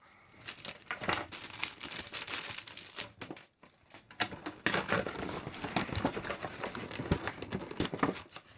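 Cardboard and plastic packaging of a giant Monster High doll stand being torn and crinkled open, irregular ripping and rustling bursts close by with a brief pause midway.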